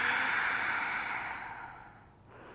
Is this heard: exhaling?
yes